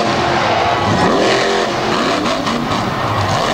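A drag racing car nicknamed the choo-choo launches hard down the strip at Thunder in the Valley 2022, a loud, continuous engine roar that fills the whole span with no talk over it.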